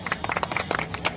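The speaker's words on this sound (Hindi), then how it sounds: "तालियां" Short burst of scattered hand clapping from a crowd at a sports-related public event in Darbhanga, Bihar, with uneven claps rising and falling over a second, moderately faint.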